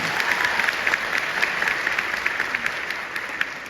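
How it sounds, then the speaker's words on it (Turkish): An audience at a talk in Yozgat applauds Emel Hanım, İpek's mother, with steady, dense clapping that fills the hall at moderate volume and keeps the same level throughout. "Emel Hanım'a buradan kocaman bir alkış alabilir miyiz İpek'in annesi?"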